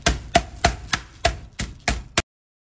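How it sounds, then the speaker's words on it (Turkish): A hard object pounds and crushes food on a kitchen surface: seven sharp, close knocks in a steady rhythm about a third of a second apart, with nothing else heard. "yoksa da benim gibi sert bir eşyayla ezebilirsiniz."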